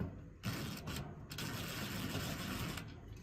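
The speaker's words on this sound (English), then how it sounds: "you're gonna want to use the wrench that comes included to screw it in" Metallic ratcheting clicks and clinks from a wrench tightening a bolt while assembling a metal bird cage, close and steady for a few seconds with short pauses.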